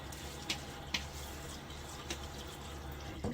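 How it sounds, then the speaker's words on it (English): Before a wet shave, water runs at a bathroom sink as a face is rinsed. A low, steady trickle carries a few soft splashes, faint and close, with no talking. "All right, I'll get my face wet again."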